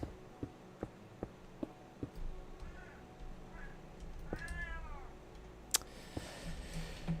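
A house cat meows to be let out, several rising, drawn-out calls spaced apart and fairly close, with sharp taps and knocks scattered throughout in a quiet room.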